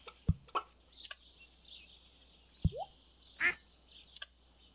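Ducks quacking in the farming video game Stardew Valley, a few short, separate quacks and blips spread over a few seconds against a quiet background.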